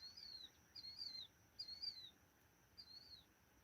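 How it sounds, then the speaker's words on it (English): A lake bird calls faintly in the background, giving four short, high, chirping phrases with pauses between them over quiet outdoor ambience. "That bird that's making that noise in the background is some kind of lake bird."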